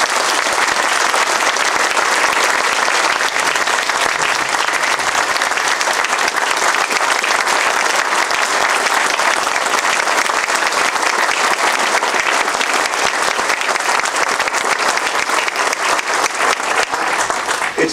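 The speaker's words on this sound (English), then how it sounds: "I'd like everybody to get a chance to give a round of applause for that" Loud, dense applause from a panel audience honoring Lieutenant Bartle, a sustained wall of many hands clapping at full strength for the entire eighteen seconds without letup.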